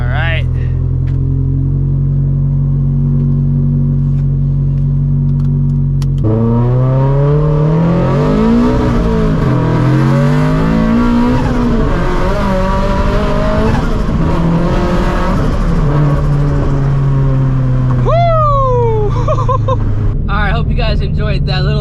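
A 400HP turbocharged Subaru-platform FRS (boosted 86) revs and pulls hard, its engine note climbing through gears with turbo whoosh and flutter, loud and close from inside the car, after an idle and before easing off.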